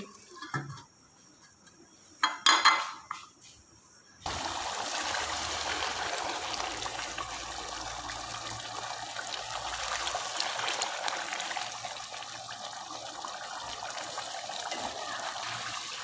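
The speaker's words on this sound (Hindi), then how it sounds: "बॉयल आना शुरू हो गया है।" Chicken and chickpea gravy simmers in a pot with a steady bubbling, hissing wash of boiling liquid that holds for most of the stretch after a few brief clinks at the start.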